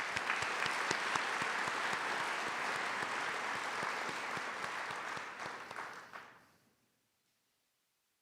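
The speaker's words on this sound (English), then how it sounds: "Please give them all a round of applause." A round of applause for student officers at a National Honor Society spring induction: a room full of people clapping steadily and densely, holding for about six seconds before tapering off into silence.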